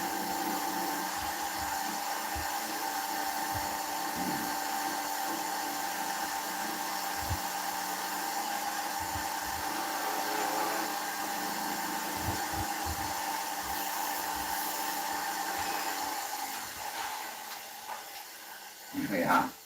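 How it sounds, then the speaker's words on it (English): A steady, loud chainsaw drone with a harsh buzzing hiss runs almost unbroken, cutting through a log of spalted beech, easing off briefly near the end. "Unfortunately mine's too small, so the chainsaw will do for now."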